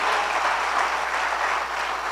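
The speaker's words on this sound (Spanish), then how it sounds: "Dele un fuerte aplauso al Señor en esta mañana" A church congregation applauds during a morning service, producing a steady, dense roar of clapping that holds at an even level throughout, with no talk over it.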